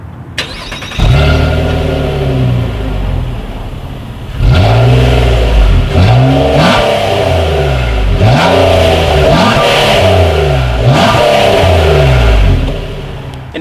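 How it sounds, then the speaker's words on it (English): Dual exhaust with chrome tips on a 2018 Nissan Maxima, starting up and then revving repeatedly, each rev rising and falling in a steady rhythm, loud and close with no talking. "So as always, you guys, here is that exhaust clip."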